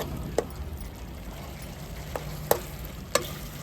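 A pan of food frying with a steady, close sizzle while a utensil stirs and scrapes against the pan in a few sharp, separate strokes.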